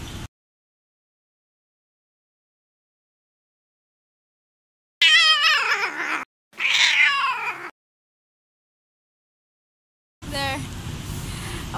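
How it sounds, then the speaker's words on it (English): A street cat meows in two drawn-out, wavering cries close by, separated by silence, followed later by a burst of outdoor noise. "The kitty don't like Chachai."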